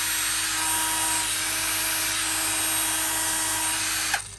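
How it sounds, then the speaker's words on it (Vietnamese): A Milwaukee 12V cordless drill runs at a steady high-pitched whine, loud and close for about four seconds before cutting off abruptly, with no talking. "Rồi tiếp đến là một cái máy khoan"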